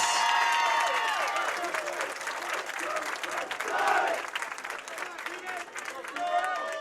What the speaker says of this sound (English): Let's give one last round of applause for all of our teams that have made it to today's state championships.